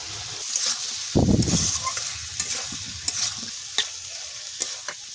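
Ginger and green chilli fry in a pan for a spinach and prawn dish, a steady sizzle broken by a louder burst and several sharp clinks and scrapes of stirring.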